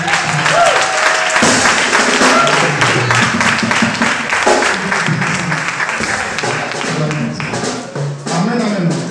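A church congregation at an ordination and consecration ceremony applauds to acclaim Jesus, with sustained loud clapping from a large crowd, voices and cheers mixed in throughout.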